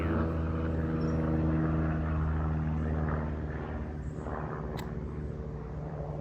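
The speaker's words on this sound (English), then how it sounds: "there goes that plane again" A steady low engine drone of an aircraft passing overhead, loud at first and easing slightly, with no one speaking.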